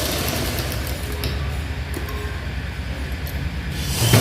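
A sewing machine stitches a government school half-trouser uniform, running in a steady, fast, close mechanical whirr that ends with a brief clunk.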